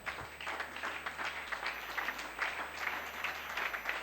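A church congregation clapping in acclamation during a Sunday service, a rhythmic pulsing of hand claps from many people over low background hum, moderately loud and sustained.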